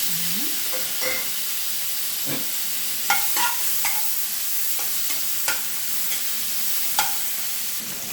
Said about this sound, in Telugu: ఇప్పుడు మనం టమాటా కట్ చేసి పెట్టుకున్న టమాటాలు వేగించుకోవాలి